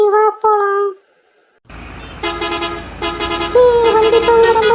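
A cartoon lorry gives a few short horn toots, falls briefly silent, then starts off with a rising engine rumble and repeated bright honks that grow louder toward the end.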